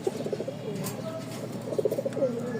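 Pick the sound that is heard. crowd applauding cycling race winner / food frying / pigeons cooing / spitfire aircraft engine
pigeons cooing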